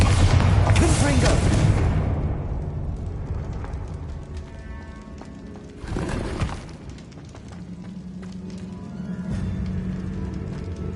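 Bombarda and Confringo spell blasts in Hogwarts Legacy, a loud booming explosion at the start rumbling down, then a second smaller blast burst midway over faint game ambience and tones.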